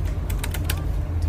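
Typewriter-style key clicks used as a typing sound effect, a short burst of a few crisp, close taps in quick uneven succession over a low background hum.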